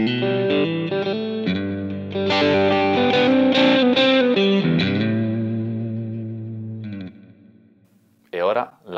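Electric guitar played through a Flattley The Ace pedal into a Plexi amp with no boost: sustained chords and single-note lines with a distorted, effected tone, fading toward the end before a brief final burst.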